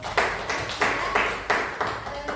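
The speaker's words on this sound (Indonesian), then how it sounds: "tepuk tangan dulu" Several bursts of hand clapping at a classroom session in a teacher-training class, coming in uneven pulses at roughly half-second intervals, moderately loud and close, with no talking over it.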